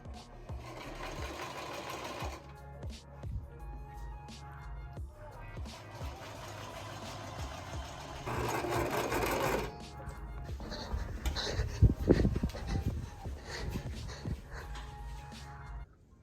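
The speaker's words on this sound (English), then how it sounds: "make sure you're using a zigzag stitch because this is stretchy fabric" A sewing machine running a zigzag stitch along the hem of a stretchy thrifted dress, whirring in steady bursts with short pauses and a louder, busier stretch near the end, with no talking over it.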